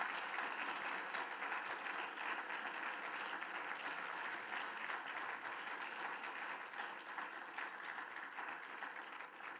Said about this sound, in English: I want to please give a round of applause for our speaker.